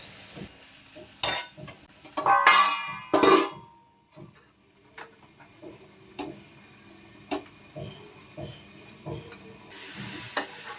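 Food fries in a pan with coriander leaves added, opening with loud clattering of utensils against cookware, then a soft sizzle dotted with regular ticking taps.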